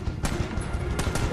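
Bursts of gunfire in a video game, a few rapid shots over about a second, loud and close.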